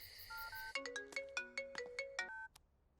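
A mobile phone ringtone plays as a call is placed to a father, a held electronic chime followed by a quick run of bright plucked notes, loud and alone before cutting off.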